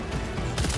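Rapid gunfire from a weapon in the video game Death Stranding 2, a short dense burst of shots that swells louder toward the end over a busy game soundscape.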